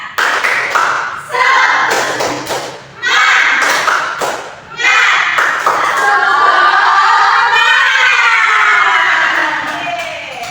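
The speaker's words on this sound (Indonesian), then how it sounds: "kita tepuk semangat bareng-bareng" Schoolchildren stand in an Indonesian primary classroom and perform the 'tepuk semangat' clapping chant together, loud rhythmic bursts of claps and shouted chanting in several rounds, with a teacher's voice leading between them.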